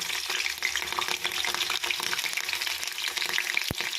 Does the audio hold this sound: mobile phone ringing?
no